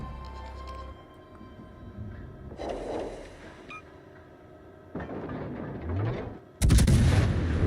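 Naval gunfire from warships in World of Warships Legends, several heavy booming salvos spaced a few seconds apart, with the last blast loudest and rolling into a long rumble, no talk.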